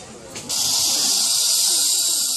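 A person imitates a crocodile with a long, loud, breathy hiss that starts abruptly after a brief pause and holds steadily.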